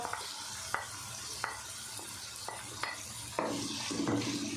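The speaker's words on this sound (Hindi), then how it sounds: "इसको हम अच्छे से एक दफ़ा भून लेते हैं।" Chicken and onion fry in a pan with a steady sizzle, while a utensil scrapes and stirs in regular strokes, growing louder toward the end.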